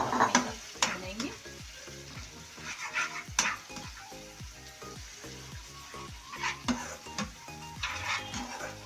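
Fried fenugreek leaves roasting in a pan, a steady sizzle broken by a rhythmic series of utensil scrapes and taps against the pan, close and fairly loud.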